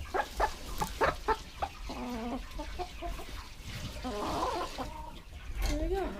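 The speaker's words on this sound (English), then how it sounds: "on this side we have the laying hens and some roosters." Laying hens and roosters clucking together on a ranch in British Columbia, a busy cluster of near, overlapping clucks and squawks with a short crow-like call near the end, set against a low outdoor rumble.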